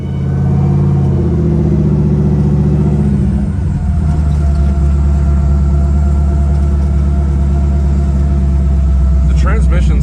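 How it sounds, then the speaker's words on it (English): LS-swapped 1973 Ford Torino on the road, with a steady loud engine and drivetrain drone and a sustained whine from the transmission running throughout, with people talking over it. "The transmission sounds like a power steering pump whining."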